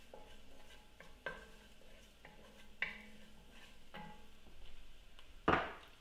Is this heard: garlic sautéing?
yes